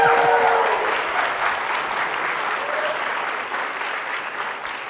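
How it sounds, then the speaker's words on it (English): An audience breaks into loud, sustained applause and cheering for the library during a city's State of the City address, a dense roar of clapping that slowly eases. "Who are the library fans? Go ahead, cheer it up."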